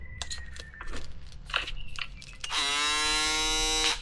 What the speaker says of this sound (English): this is the new foil shaver by Stylecraft